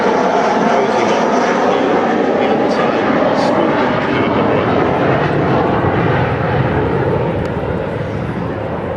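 An Avro Vulcan bomber flies its display at the Farnborough Air Show, a loud, steady roar of jet engines that fills the whole stretch and fades slightly at the end.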